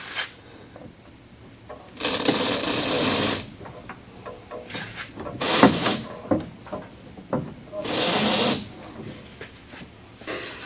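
Steering U-joints on a Steeroids rack and pinion are turned by hand, giving a few distinct rolling, rasping bursts of metal motion with soft clicks and handling noises between them, close by.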